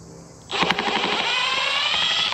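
A power gun drives a short bolt while installing a Grom intake, a sudden loud rattling burst that holds steady for about two seconds close by, then stops.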